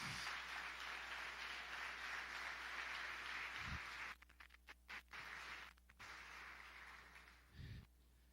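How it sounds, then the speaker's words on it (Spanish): A church congregation at a Sunday morning service applauds as a steady, faint wash of many clapping hands, which thins into scattered claps near the end. "Dale un aplauso al Señor en esta mañana."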